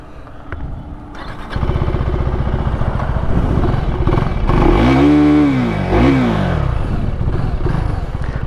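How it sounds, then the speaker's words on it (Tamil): A Husqvarna Svartpilen 401 motorcycle starts and idles loudly close by, then revs hard twice, each blip of the exhaust rising and falling in pitch before settling back to a steady throb. "ஸோ எக்ஸாஸ்ட் நோட் கேட்டு அப்படியே போவோம்."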